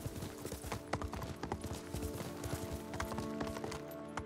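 Horse hooves in Ghost of Tsushima clip-clop in a quick, steady rhythm at close range, with a low game-soundtrack drone underneath and no talk.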